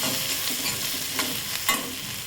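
Rice puffs or fried ingredients being stirred and sautéed with turmeric and salt in a pan, a steady broadband sizzle with a few louder scraping stirs, close and continuous, no talking.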